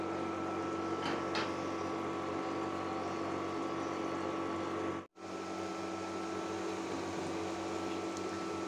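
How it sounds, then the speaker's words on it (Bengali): Onion fritters (piyaju) fry on low heat in a pan, a steady close sizzle and hiss running evenly throughout, with one brief dropout midway. "এখন অল্প আঁচে ভেজে নিব।"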